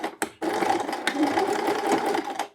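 Sewing machine running a very short seam on the right side of a fabric band for a child's pajamas: a quick, loud, continuous motor whir after a couple of brief clicks, alone and close.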